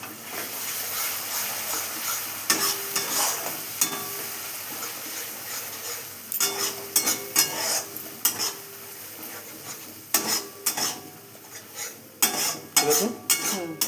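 Dry spices fry together in a pan for a spinach and chicken dish. A spatula scrapes and stirs in repeated close strokes over a light sizzle, with occasional metallic clinks against the pan.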